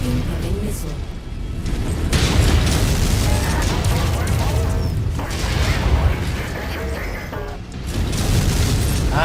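Missile explosions rumble through a MechWarrior 5 battle, heavy booms and crashes layered over continuous mech combat noise, with a voice talking over the action.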